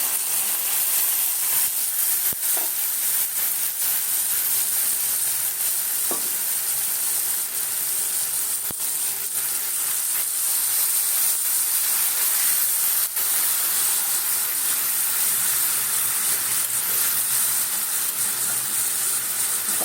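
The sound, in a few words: spice paste mixed in water sizzling in the pan with onions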